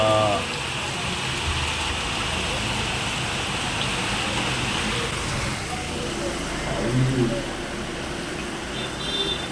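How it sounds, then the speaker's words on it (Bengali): Heavy rain pours in the early morning, a steady dense hiss of drops striking surfaces that runs the full length without letup, with a faint voice underneath. "বিশাল বৃষ্টি, যারা বলে বিশাল বৃষ্টি।"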